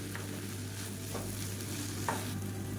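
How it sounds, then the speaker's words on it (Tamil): Egg rice stirred in a pan over high flame, a low steady sizzle with a few distinct scraping strokes of the spatula, quiet and close, with a constant hum beneath. "இதை நல்லா கிளறி விட்டுக்கோங்க ஹை ஃப்ளேம்லேயே வச்சு கிளறி விட்டுக்கோங்க"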